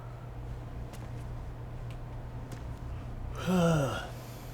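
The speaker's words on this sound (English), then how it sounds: "Stop yawning, kid." A character in Metal Gear Solid 2 lets out a single drawn-out yawn near the end, rising and then falling away, heard alone over a steady low game hum.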